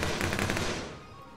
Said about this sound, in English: Did Lord just shoot Carl through that window